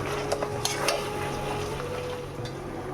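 Boiled potatoes going into a pan of frying onion and ginger-garlic paste, a soft low sizzle with a few light clinks and scrapes of stirring, fairly quiet and without speech.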